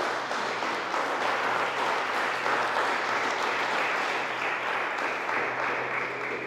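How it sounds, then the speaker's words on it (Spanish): A church congregation claps loudly and continuously, a dense wash of applause filling the room without a break. "¿Puede usted darle un fuerte aplauso al Señor por eso?"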